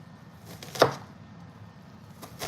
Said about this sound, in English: Alright, now we're gonna dice our onion.